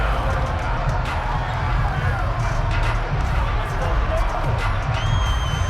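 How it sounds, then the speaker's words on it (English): A stadium crowd in the football game Madden 23, Texans versus Titans, roars and cheers steadily throughout, with bursts of noise rising over constant crowd babble. "How about some applause for the defense there?"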